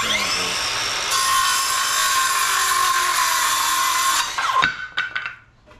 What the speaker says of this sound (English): battery's getting a little low on the skill saw, I believe.